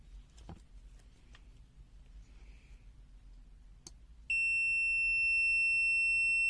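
A faint click and tap over low hum, then a steady high-pitched multimeter continuity-test beep starts and holds continuously to the end.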